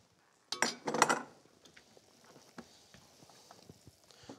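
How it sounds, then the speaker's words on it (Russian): A saucepan of herring confit with thyme is lifted off a kitchen stove, giving a short burst of metallic clinks and clatter, then quieter scattered taps and knocks. "Все, снимаю сотейник с плиты."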